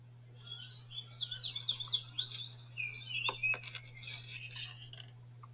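Busy, high twittering birdsong from several birds, captured outdoors on a voice recorder at a distance over a steady low electrical hum, with a couple of faint clicks.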